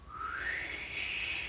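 A single rising whistle of breath on the exhale during Kundalini yoga breathing, a thin steady tone gliding upward for over a second, close and clear.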